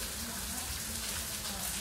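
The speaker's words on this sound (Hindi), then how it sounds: "बहुत तेज बारिश हो रही है ना, तेज बारिश हो रही है बहुत।" Heavy rain pours steadily as broadband hiss, constant and fairly close, with no distinct drops standing out and faint voices beneath.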